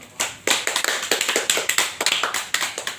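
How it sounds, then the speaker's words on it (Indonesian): A small classroom of students claps their hands together in a lesson, irregular sharp close claps from a few people, uneven in rhythm, with no talk. "Tepuk tangan."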